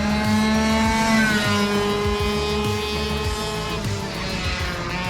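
Little red pickup truck driving on a race track during a track day, engine droning loudly and steadily nearby with shifting revs, other engine noise blending in, no talk.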